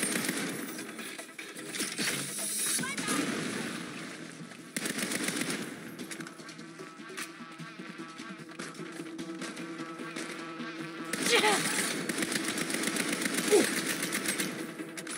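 Rapid machine-gun bursts from a weapon powered by a backpack in Saints Row crackle in repeated volleys, loud at the start, dropping back in the middle, then surging again near the end.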